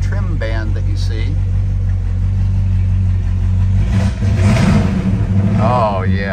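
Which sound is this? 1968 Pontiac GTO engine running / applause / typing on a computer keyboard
1968 Pontiac GTO engine running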